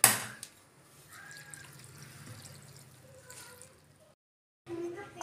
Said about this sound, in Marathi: आपल्याला लगेच त्यावर थंड पाणी ओतायचं आहे